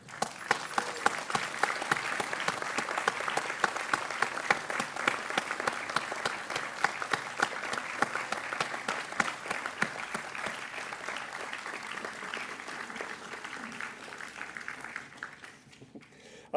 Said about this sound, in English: join me in a round of applause for our graduating